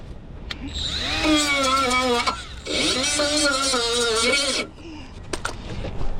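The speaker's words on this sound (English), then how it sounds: "I'm just gonna take a die grinder and just grind this down to bare metal" A die grinder works car metal on a 2018 Toyota RAV4 down to bare metal, whining up to speed in two sustained, loud bursts of a few seconds each with a short pause between, then stopping.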